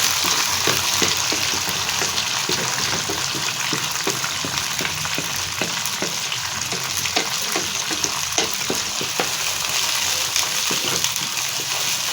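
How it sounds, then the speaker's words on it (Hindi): Chopped onions fry in a pan of oil for a turnip and pea curry, giving a steady, close, dense sizzle that crackles continuously for the whole stretch without any voices. "इनको फ्राई करेंगे अच्छी तरह से।"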